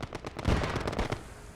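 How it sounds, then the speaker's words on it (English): An anti-tank weapon fires during a beach assault in a Commonwealth war video game: a loud, close cluster of sharp blasts and crackling reports packed into about a second, then a fading rumble. "That was some sort of anti-tank weapon."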